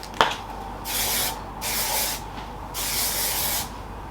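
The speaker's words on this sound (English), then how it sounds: "So I'm going to use this shine spray." Hair shine spray hisses out of an aerosol can in three close, steady bursts, each lasting under a second, with short pauses between them and a faint click at the start.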